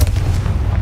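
Confringo fire spell blast in the Hogwarts Legacy video game, a brief loud booming explosion with heavy low rumble, alone without talk.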